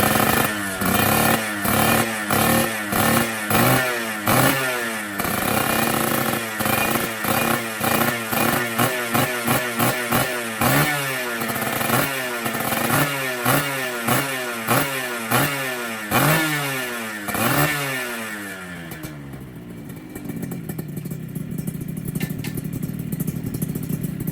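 Engine of a Suzuki Satria Hiu motorcycle, a restored and modified bike, revved hard in a steady series of sharp blips that fall back each time, loud and close, before settling to a rougher idle near the end.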